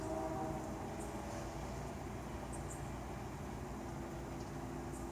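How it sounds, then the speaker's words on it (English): A steady low rumble of a train rolling past at a distance, continuous and even throughout with no voices. "So, can you hear the train?"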